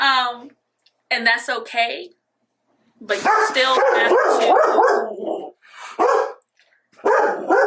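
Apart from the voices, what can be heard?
dog barking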